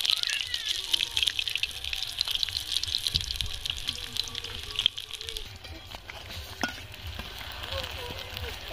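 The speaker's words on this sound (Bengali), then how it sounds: "এই যে কত সুন্দরভাবে ভাজা হয়ে যাচ্ছে।" Eggplant fritters (beguni) deep-frying in oil, village-style on a winter day, a steady bubbling sizzle with occasional pops and stirring, while distant loudspeaker noise from a nearby event carries faintly underneath.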